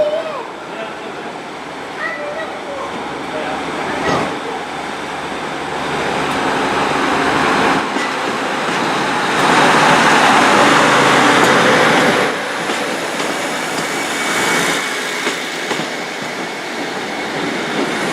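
A Great Western Railway train, the 13:43 service from Penzance to Newton Abbot, pulls out of Plymouth station with a steady broad rumble of engine and wheels that swells midway, set against open station ambience.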